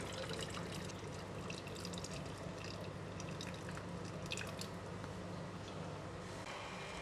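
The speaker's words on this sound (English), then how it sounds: "In a pan, pour in the excess gravy." Excess gravy from soy sauce braised chicken is poured steadily into a pan, a continuous wet pouring and dripping sound that stays even and fairly faint throughout.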